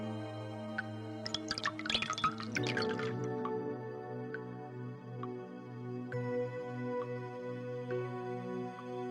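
Cold water is poured into a cup of hot tea, a short splashing trickle and drips rising over a steady low hum before fading to quiet dripping.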